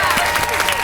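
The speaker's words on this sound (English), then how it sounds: "Claps" An audience claps briefly after a talk, a dense burst of hand claps blending into a short crowd patter.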